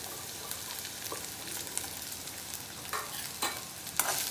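Sabudana usal being stirred with peanut powder in a pan, a soft steady scraping with a faint sizzle underneath and a few sharper spoon strokes toward the end.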